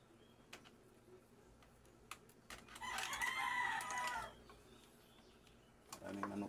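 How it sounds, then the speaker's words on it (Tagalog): A rooster crows loudly at a neighbour's place amid a flock of chickens, one long strained call with faint clucks and scattered ticks around it, then a brief new burst at the end. "Maraming manok dito sa kapitbahay guys, pasensya na sa maingay yung mga manok."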